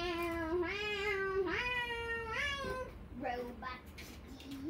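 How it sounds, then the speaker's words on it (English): A robot toy cat gives a series of drawn-out, strongly harmonic meows, several in a row with a rising and falling pitch, close and fairly loud over a steady background hum. "Robot kitty."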